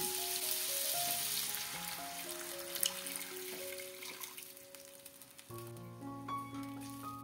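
Pork sizzles steadily in a pan as water is poured in, a soft frying hiss running under faint background tones, low in volume and without talk.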